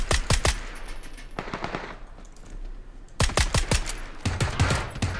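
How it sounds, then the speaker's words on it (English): Rapid bursts of automatic gunfire in a video game crackle in quick volleys with short gaps between them, loud and close. "Who are they shooting at?"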